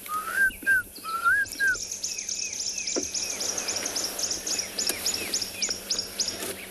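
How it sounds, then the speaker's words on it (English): A Klaas's cuckoo calls on a sunny morning on safari, repeating rising whistled notes in a steady series over other birds chirping in the background, moderately near and clear. "You can hear the classes cuckoo in the background there."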